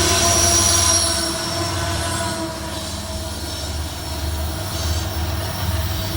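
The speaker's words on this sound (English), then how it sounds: "Eastbound oil train heading to Minneapolis." A BNSF eastbound oil train passes by Lake Minnetonka in Wayzata, Minnesota, loud and close, with steady rolling wheel noise and high metallic wheel squeal throughout, no voices.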